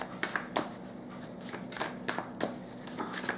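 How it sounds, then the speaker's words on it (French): Small handwritten cards are shuffled by hand in quick, soft riffling bursts, several close rustling strokes spaced irregularly, quiet and without speech. "On va maintenant utiliser les petites cartes manuscrites."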